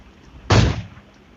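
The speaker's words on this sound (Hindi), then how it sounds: "एक शॉट मारा नहीं लगा, दूसरे शॉट में शॉट" A single punchy gunshot fires in the PUBG Mobile Lite video game, a short booming burst that decays within about a third of a second against a quiet background with no talk.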